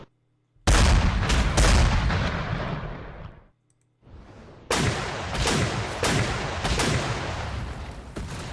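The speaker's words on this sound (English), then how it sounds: "I want to move my battleship and try to take out this carrier" Heavy naval guns from a battleship firing on an aircraft carrier in Panzer Corps 2, a massive booming blast that rumbles and decays, then after a brief gap a series of several loud shots in quick succession.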